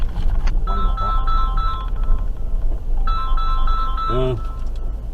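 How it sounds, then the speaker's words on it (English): A phone ringtone for an incoming call plays a bright repeating melodic chime in two bursts, fairly loud over steady background noise, with a short voice sound near the end of the second burst. "Phone call."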